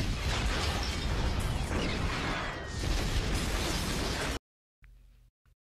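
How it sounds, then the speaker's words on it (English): Car explosion from the 2004 film Man on Fire, a loud dense roaring blast with crackling debris sustained for about four seconds, then cutting off abruptly into near silence with a brief faint tail. "car explosion"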